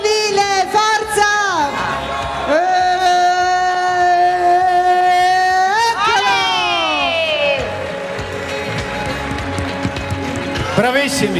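A crowd cheers at the finish of the Palio das Cjarogiules race in 2018, with sustained loud shouting and drawn-out voices rising and falling over about eleven seconds, and an announcer talks over it.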